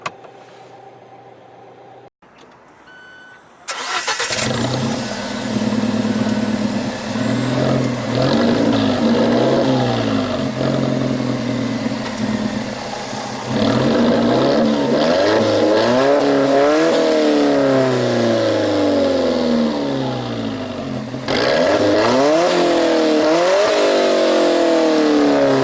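An Alfa Romeo 4C drives through city streets, its engine note rising and falling through repeated revving accelerations and gear changes, loud and close, with no talk over it.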